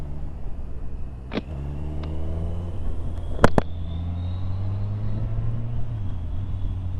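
A Suzuki Katana or Triumph Daytona 660 motorcycle is ridden on the road, its engine a steady droning rumble with rising and falling pitch as the rider works the throttle, plus a couple of brief sharp clicks.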